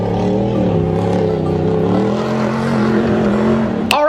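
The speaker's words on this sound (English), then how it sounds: "The car is being loaded up onto the trailer." A car, a BMW 8 Series being loaded up onto a trailer, runs close with a steady engine drone whose pitch shifts slightly. A brief sharp knock comes near the end.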